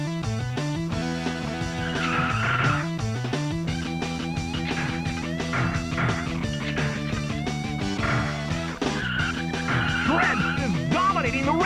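Race cars launch at the start of a retro video game race, with whining engine tones and squealing tires layered over busy electronic game music, loud and continuous.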